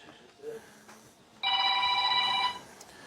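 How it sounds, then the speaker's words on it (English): A phone rings in a house during a tree snake rescue, one bright electronic trill lasting about a second, fairly close and loud above quiet room noise. "Oh, phone's ringing."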